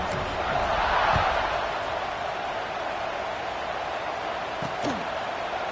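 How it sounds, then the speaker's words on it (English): Crowd murmur in a college football video game stadium, with the Tennessee home crowd buzzing after a touchdown: a steady, broad roar that swells briefly near the start, then holds as a continuous wash with a few faint thuds. "this crowd is buzzing after that last score"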